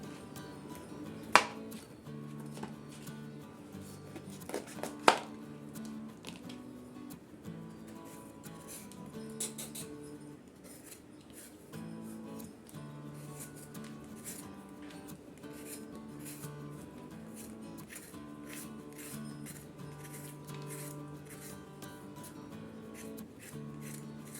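Ridges being scraped off a ridge gourd with a knife, a long run of light, rapid scratching strokes with a few sharper knocks near the start, close and steady under a faint background hum.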